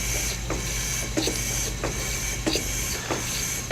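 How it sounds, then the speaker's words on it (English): A steam engine's wheel turning: a steady mechanical hum and low rumble with soft, regularly spaced clicks or thumps roughly every two thirds of a second, like a wheel turning evenly. "All you're hearing is really the wheel going around."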